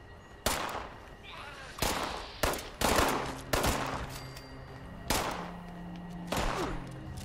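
Gunfire from zombies in the video game Fallout 76 cracks out in sharp, irregular bursts, about seven loud shots spaced a second or so apart, each with a short echoing tail over a low game ambience.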